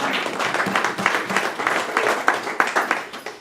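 A church congregation applauds together in a steady burst of clapping, dense and fairly loud, filling the room for a few seconds with no speech over it.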